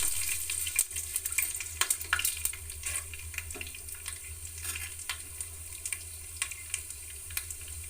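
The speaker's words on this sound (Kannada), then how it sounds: "ನಾನು ಇವಾಗ ಕರಿಬೇವು ಮತ್ತು ಕಡಲೆಬೇಳೆ ಹಾಕ್ತಾಯಿದ್ದೀನಿ" Curry leaves and chana dal frying in hot oil with mustard seeds for a hotel-style potato palya, giving a steady close sizzle with scattered sharp crackles and pops throughout, no voices.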